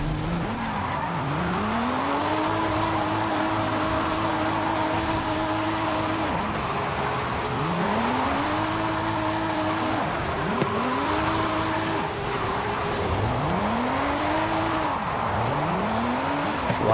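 A Mercedes-Benz drifting in Forza Horizon 5, engine revving up and down in repeated sweeping surges as it slides through corners, loud and continuous with tire noise underneath.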